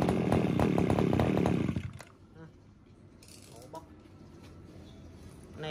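An Echo 362 chainsaw engine screams loudly at high revs for about two seconds, then drops to a much quieter, rattling idle that continues to the end.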